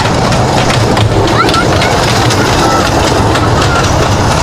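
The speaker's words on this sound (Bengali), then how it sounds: "দেখতে পাবো ট্রেনটা ছুটছে, বাচ্চা ট্রেন," A motorized kiddie ride train rolls around its track at a village fair, producing a continuous loud rumbling clatter, with someone talking over it and fairground crowd noise behind.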